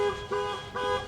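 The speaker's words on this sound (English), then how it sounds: "The alarm just goes off whenever it wants to" A low-mileage Jaguar S-Type's faulty car alarm sounds off on its own, giving close, loud, horn-like honks that pulse about twice per second with no one talking.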